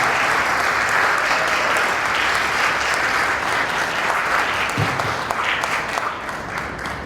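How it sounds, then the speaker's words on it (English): At a chamber of commerce awards celebration, an audience gives past chairs a round of applause: steady, full clapping from many people in a room, holding strong throughout and tapering slightly near the end. "we could give these great individuals a round of applause"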